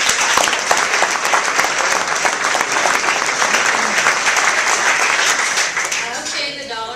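Loud, sustained applause from a luncheon audience at a real estate event, dense clapping close by that holds for several seconds before tapering off at the end.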